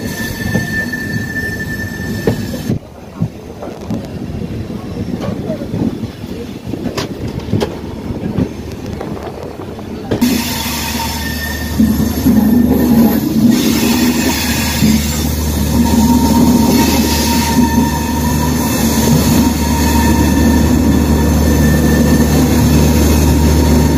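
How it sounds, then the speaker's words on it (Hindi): A delayed train pulls into Anand Vihar station, its wheels squealing and grinding along the rails in a long loud screech that grows into steady rumbling and clatter as it slows, with no voices over it. "चार घंटे की देरी से हमारी ट्रेन पहुंच रही है आनंद विहार"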